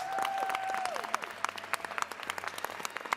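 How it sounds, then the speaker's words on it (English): An audience at an inauguration-week event applauds a round of introduced staff. Scattered, thinning hand claps follow a brief tonal whine and grow sparser and more distinct toward the end. "Suzanne, Amanda, Lindsay, give them a round of applause"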